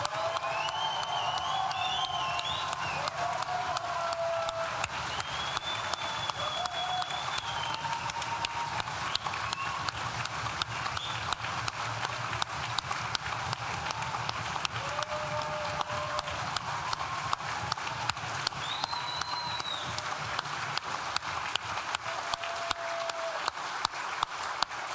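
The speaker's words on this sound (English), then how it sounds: "So I want you to stamp, I want you to cheer, I want you to holler, raise the roof" Graduation ceremony audience in a hall applauding and cheering, a dense, sustained wash of clapping with scattered whoops and shouts rising above it, loud and continuous throughout.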